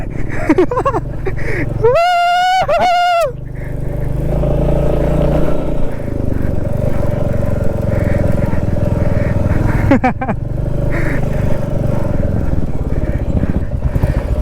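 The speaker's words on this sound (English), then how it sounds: "make sense of this inclination, but damn, it's too steep. And Charlie riding it like a butter" A Royal Enfield Meteor 350 motorcycle climbing a steep off-road incline near a temple, its engine thumping loudly and steadily close by, with a brief whistle-like tone early on.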